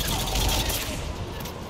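Machine gun fire in the game Mass Effect 3, a dense, sustained rattling burst heard fairly faint within a noisy battlefield, with no clear gaps.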